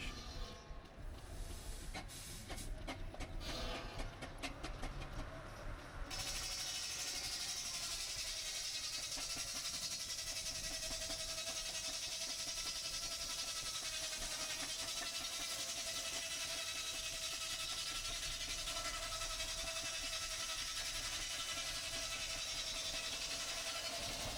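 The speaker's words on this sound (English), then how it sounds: "the steam working demonstration with this agricultural engine working this saw bench" Steady hissing and mechanical chugging from a steam agricultural engine driving a saw bench at a steam and country show, continuous and fairly loud, with a brief clattering start.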